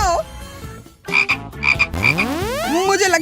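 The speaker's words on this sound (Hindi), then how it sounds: "एक मेढक।" A frog croaks in a playful Hindi key-and-safe challenge scene, giving several loud, close, warbling croaks and chirps in quick bursts with sliding pitch sweeps.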